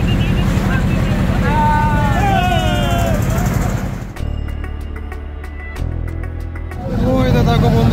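A large trawler carrying many passengers runs on the water with a steady close engine drone, with voices over it early on, then a quieter, thinner stretch before the full engine noise returns near the end.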